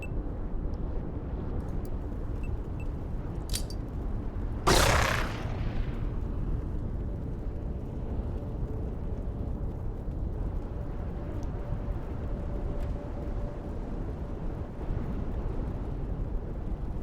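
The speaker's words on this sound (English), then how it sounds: "I can just toss this fragmentation grenade." A single fragmentation grenade in Xenonauts 2 goes off in one sharp, loud blast that quickly fades into a low rumble, with quiet background noise before and after.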